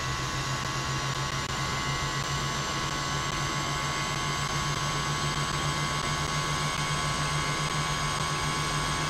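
Airbus A330-200 jet engines spooling toward takeoff power in X-Plane 11, a steady whining roar with a droning tonal hum and broadband rush, constant and loud with no talk.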